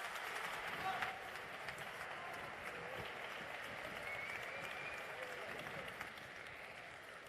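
Steady, faint applause from an audience at a union assembly in Valladolid, a dense even clatter of clapping that holds throughout and fades slightly at the end.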